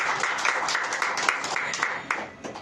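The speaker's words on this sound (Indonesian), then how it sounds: "Beri tepuk tangan yang meriah." A church congregation at a Sunday service giving lively applause, many hands clapping in a steady rolling wash with a few louder claps, gradually easing toward the end, no speech over it.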